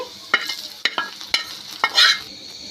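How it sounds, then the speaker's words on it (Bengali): Ghee-fried onions are poured into a pot of halim, bringing a few sharp scraping stirs and a brief burst of sizzling near the end, close by with no speech. "আমার পেঁয়াজটা ভাজা হয়ে গেছে, এই পর্যায়ে আমি ঢেলে দিচ্ছি"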